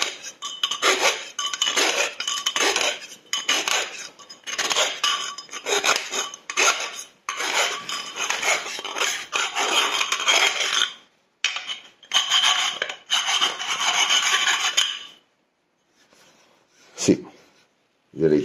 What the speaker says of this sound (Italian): sbaviamo un po', togliamo le bave e dentro.